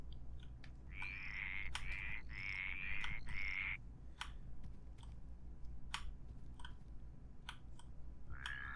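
Frogs croak in the Minecraft Regrowth modpack, a run of rapid, buzzy game croaks over about three seconds, then scattered clicks and one more croak near the end, all over steady background ambience.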